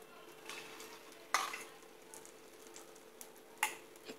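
Egg paniyaram batter fries quietly in hot oil in a paniyaram pan, a faint soft sizzle with two sharp clinks of a utensil against the metal.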